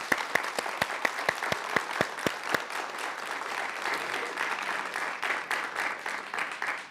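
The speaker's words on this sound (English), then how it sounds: "Let's give her a round of applause." An audience at a book talk applauds. A few distinct early claps quickly swell into dense, sustained clapping that carries on for several seconds before tapering slightly.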